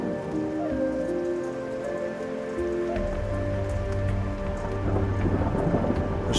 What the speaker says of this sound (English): Rain still fell over Whiterun, soft and steady, as if the sky mourned with them.